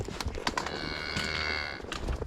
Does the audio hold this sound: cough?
no